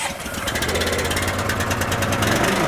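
The gas engine of a NorthStar wet steam and hot water pressure washer fires up and settles into a loud, steady, rapidly pulsing chug, close by.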